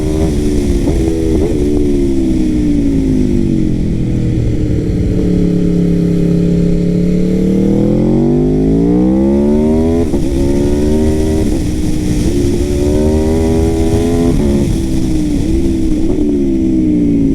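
An Aprilia RSV4 superbike with a 217 hp engine accelerates hard on a test ride, its loud engine note sweeping up and down through repeated gear changes and revs, close and continuous throughout.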